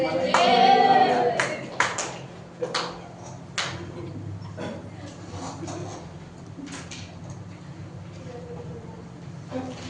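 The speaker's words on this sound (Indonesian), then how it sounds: "Ya, tepuk tangan untuk kelompok ini." Fifth-grade pupils in a classroom clap briefly for a group of classmates, a short, loose burst of hand claps that thins into a few scattered claps and knocks, with a voice near the start.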